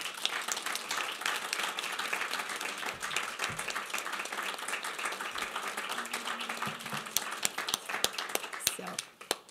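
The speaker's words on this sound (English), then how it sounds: "So can we give them a round of applause?" An audience applauds students standing up at a session of the Commission on the Status of Women, a dense, steady burst of clapping that thins out near the end.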